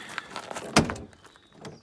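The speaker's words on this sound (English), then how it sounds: "I can try and open the door here." A car door on a Project M3 build opens with a sharp mechanical clunk at the centre of a short, fairly quiet stretch with faint handling noise around it.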